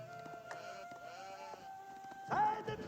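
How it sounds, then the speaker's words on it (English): Sheep bleating in the real-time strategy game Age of Empires 4, a few short, quiet bleats scattered across the moment, one louder bleat near the end, over faint game ambience. "we've got only a handful of sheep there"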